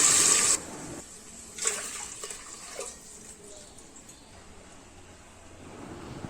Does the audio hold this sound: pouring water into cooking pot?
yes